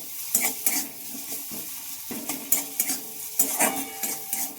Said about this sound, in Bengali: এবার একটু ভালোভাবে সব একসাথে আমি মিশিয়ে নেব